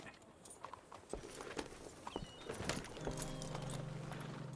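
A horse walks with soft, uneven clip-clop hoofbeats in the Red Dead Redemption 2 video game, faint and fairly close, followed by a low steady hum.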